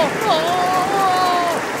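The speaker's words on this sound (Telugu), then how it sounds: "వర్షం కూడా పడబోతుంది. బాగా పడుతుంది." Cartoon rain falls as a steady, even hiss of sound-effect rainfall, with a voice speaking over it the whole time.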